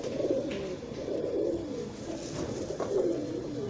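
Several large breeder pigeons coo in soft, overlapping, rolling calls throughout, close by and continuous, with no voices.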